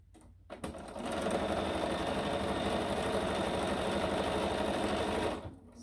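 A sewing machine runs steadily for about four seconds, stitching a quarter-inch seam while piecing a Birds in the Air quilt block, close and continuous with a brief start and stop.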